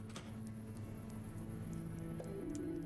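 Water dripping steadily from a ceiling indoors like rain, a continuous soft patter of drops with a low hum underneath throughout.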